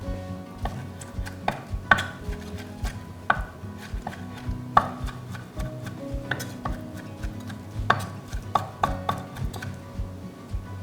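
Shrimp minced with a knife on a cutting board, sharp close chops in irregular bursts, loud and alone.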